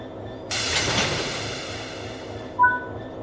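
Train Sim World 6 locomotive uncoupling from its first wagon: a sudden hissing release of air followed by a rumbling clank, then a brief metallic squeal near the end, close and moderately loud.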